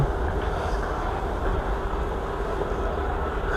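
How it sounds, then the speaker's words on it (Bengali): Wind blows across a balcony garden with potted water spinach and bitter gourd plants, a steady, loud broadband rush with low rumbling buffets that holds evenly throughout. "আর আজকে বাতাস হইতেছে"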